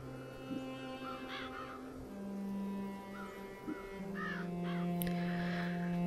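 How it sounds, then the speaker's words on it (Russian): Crows cawing in the video game Child of Light, several distinct raspy caws scattered over a sustained tonal musical drone, moderately loud and without talk. "Смотрите, какие вороны интересные."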